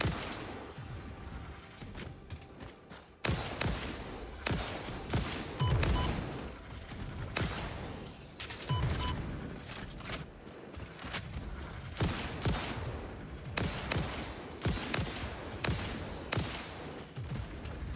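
Gunfire in the video game Satisfactory comes as rapid bursts of shots, repeated volleys through the clip with brief gaps between them and some heavier booming hits.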